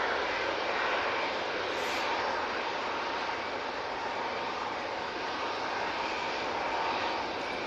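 An Airbus A320 airliner departing Manchester Airport for Palma de Mallorca, heard as a steady, broad engine roar that holds at an even level throughout, without any voices over it.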